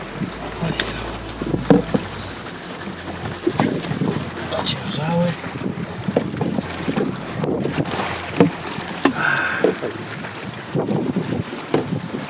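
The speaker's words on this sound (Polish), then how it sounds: "Wracamy w tej chwili w dużym wietrze, sporych falach." Small boat heading back through strong wind and big waves during a storm on the Baltic, with gusts buffeting the microphone, water slapping the hull and voices talking over the noise.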